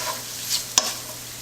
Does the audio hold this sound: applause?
no